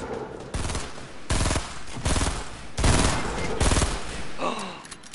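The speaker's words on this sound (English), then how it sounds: "Let me shoot him." Rapid automatic gunfire in a Fortnite squad match on PS4, with several loud bursts of fast shots separated by short pauses and trailing echoes.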